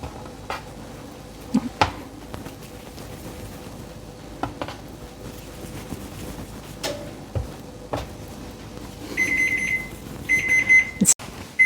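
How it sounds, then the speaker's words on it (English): A kitchen timer beeps in repeated bursts near the end, after quiet kitchen sounds of dishes and cupboards while bread and cookies are readied for the freezer. "so you hear my timer"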